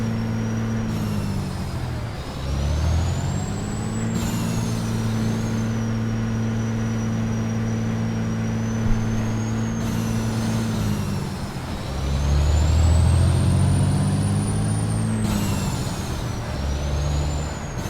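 A CR England truck in American Truck Simulator, with a deep, loud, rumbling engine-brake drone that rises and falls with shifts over a long stretch, plus a high whine layered on top.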